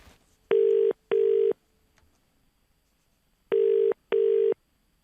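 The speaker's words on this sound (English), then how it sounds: "you'll hear the ringtone beneath me is about to change volume" A telephone ringback tone for a call to a station at Hikurangi, near Whangarei, sounds in two pairs of short, clean double rings separated by a pause, clear and alone.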